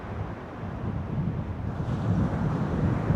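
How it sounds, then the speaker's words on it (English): Night wind gusting on the shore at Whitecliff Bay, a steady broadband rush buffeting the microphone that swells louder in the second half, with surf faintly mixed in. "the wind does seem to be picking up now"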